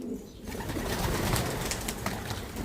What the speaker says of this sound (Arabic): وهلا راح نكش الحمام قدامكم.